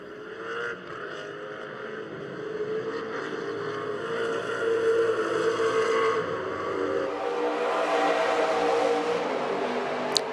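Race cars at speed on a circuit, led by a blue Chevy Corvette, roaring steadily and fairly loud, with engine noise swelling brighter and broader partway through as cars pass close.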